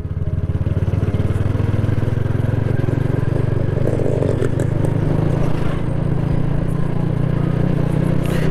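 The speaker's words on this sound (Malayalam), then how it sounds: "ഏറ്റവും ടോപ്പ് ഗിയറിലാണ് ഇപ്പോൾ ബൈക്ക് ഓടിക്കൊണ്ടിരിക്കുന്നത്" A motorcycle runs steadily in top gear, its mid-pitched engine droning continuously and close with light clatter and a slight change in tone near the middle, with no talk over it.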